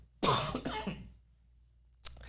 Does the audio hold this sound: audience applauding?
no